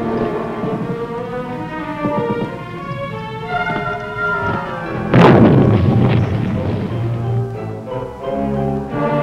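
Vietnam War combat from 1966 is marked by a sharp, loud burst of gunfire midway, with a booming report and echoing tail over a background of low rumble and steady field noise.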